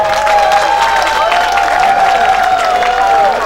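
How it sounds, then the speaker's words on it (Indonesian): Audience applause at a regional education jamboree in East Java, a steady wash of crowd clapping heard alongside a sustained tonal hum or music line running underneath throughout. "Tepuk tangan lagi."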